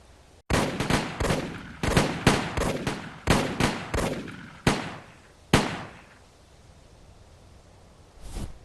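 A movie firing squad scene: a rapid volley of sharp, loud gunshots, about a dozen cracks in uneven bursts over several seconds, then a pause before one final shot, with no voices.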